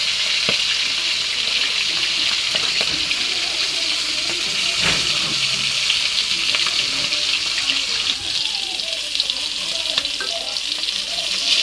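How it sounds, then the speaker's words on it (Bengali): Silver cup fish sizzle and fry in a pan with a loud, steady crackle throughout, punctuated by a few small clicks and stirring knocks. "মাছগুলো ভাজা হয়ে গেছে,"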